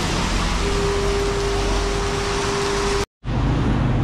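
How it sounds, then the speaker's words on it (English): Heavy rain pours down on a Bangkok street as a dense, loud, steady hiss with a faint hum underneath, broken by a brief total dropout near the end. "It's been raining for literally 2 minutes and you're already getting massive puddles."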